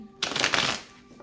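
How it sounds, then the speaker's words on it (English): A deck of tarot cards gets a quick riffle shuffle, one brief close crisp burst of flicking cards lasting under a second in a quiet room. "Can I get 2 more shuffles for Virgo?"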